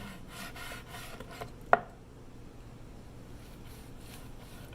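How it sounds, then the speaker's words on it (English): A knife saws through grilled London broil steak in thin angled slices against the grain, giving soft rhythmic rasping strokes close by with one sharp tap of the blade on the board. "And we're just going to slice it at an angle against the grain in thin slices."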